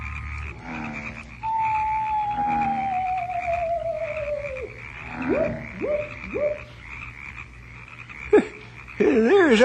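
Frogs croak at night on an island in a series of distinct, rising calls, with a long whistling tone before them and a steady low background hum throughout.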